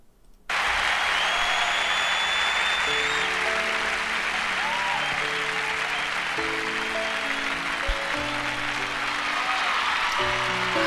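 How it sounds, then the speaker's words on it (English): Sustained applause and cheering from a large live concert crowd for a song, a dense, steady roar filling the whole stretch with musical tones faintly underneath. "Listen to that crowd."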